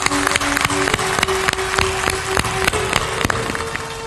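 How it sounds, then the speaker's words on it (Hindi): Audience at a Hindu devotional discourse claps loudly in a steady, sustained burst of applause, with a faint tone running underneath. "थोड़ा जोरदार ताली बजाओ।"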